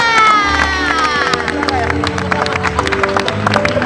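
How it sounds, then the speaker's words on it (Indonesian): A TV talk show studio audience claps and cheers loudly, with crowd noise and whoops over a burst of upbeat music. "Tapi boleh kasih tepuk tangannya."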